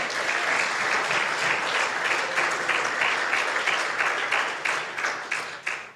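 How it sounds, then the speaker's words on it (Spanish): A church congregation claps and applauds together, a dense, sustained wash of hand claps that holds steady for several seconds and then thins out and fades at the end. "dele un aplauso al Señor."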